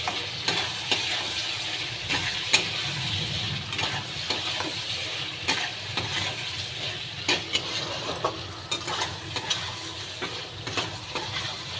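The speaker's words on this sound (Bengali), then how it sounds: "দিয়ে ভালো করে কষে নেব।" Masala sautéing with green chili, ginger garlic paste and coriander leaves in a pan without water, giving a steady sizzle with regular sharp spatula scrapes and clinks against the pan, no voices.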